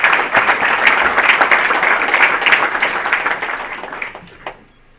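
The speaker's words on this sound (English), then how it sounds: "So round of applause for Don." Banquet audience at a rod and gun club gives a round of applause for Don, steady dense clapping from many hands that holds strong for about four seconds, then thins and fades out near the end.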